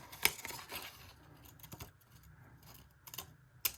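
Scissors snip paper or card for a flower stalk in a nursery craft, a few quiet, sparse clicks and cuts with pauses between.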